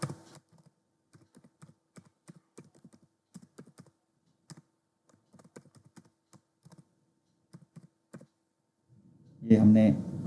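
A computer keyboard is typed on in short, irregular bursts of crisp key clicks while a password is entered, up close and otherwise quiet. A louder burst of noise follows at the very end.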